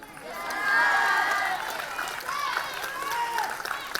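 A music forum audience claps together in a warm, sustained burst that swells within the first second, then carries on steadily at a slightly lower level for several seconds, fairly close and full.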